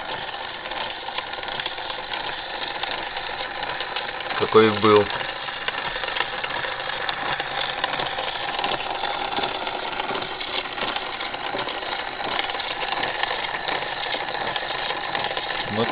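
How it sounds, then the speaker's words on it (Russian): Original spring motor of a 1906 Monarch Junior gramophone running steadily, a soft continuous mechanical whir with light rattle throughout, and a brief louder knock partway through; a voice speaks briefly over it. "Оригинальный мотор."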